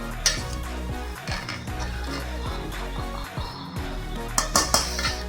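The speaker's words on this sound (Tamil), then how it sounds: "இதை நம்ம லைட்டாக கிளறி விட்டுக்கலாம்." A ladle stirs a freshly opened pressure cooker of traditional Coimbatore rice and lentil dish, with repeated metallic scrapes and clinks against the pot, close and fairly loud, no talk over it.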